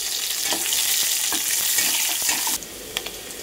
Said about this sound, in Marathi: पातेल्यामध्ये तेल घेतलेलं आहे. त्यामध्ये मी टाकलेलं आहे लसूण